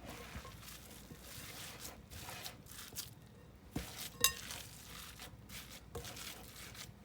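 Canned salmon patty mixture being stirred together with egg and flour in a bowl, giving faint, irregular scraping and light clinks of a utensil against the dish, with no talking.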